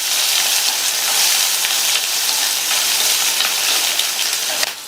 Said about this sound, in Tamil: இதை லைட்டாக வதக்கி விட்டுட்டு